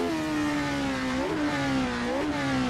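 A car engine in a sim racing game played on a Fanatec CSW 2.5 wheel base with a WRC rim drones loud and steady, its pitch climbing and dipping as the revs shift, with no talk.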